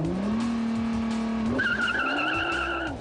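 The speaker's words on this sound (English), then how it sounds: "Hard launches generated heavy rear wheel spin on the slick airstrip" A Nissan GT-R makes a hard launch on a slick airstrip, rear tires spinning and squealing in a steady screech over the rising, loud engine roar, then an upshift and continued squeal.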